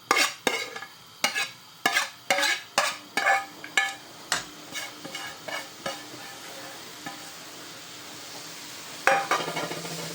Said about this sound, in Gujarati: હવે એને મિક્સ કરી નાખવાની ને થોડીક આવી રીતને ફેરવતી રહેવાની.